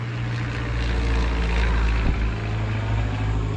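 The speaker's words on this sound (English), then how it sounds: "Oh, a plane." An airplane flies overhead with a loud, steady droning engine roar that holds for the whole stretch. There is a deep low hum and broad rushing noise, and no talking.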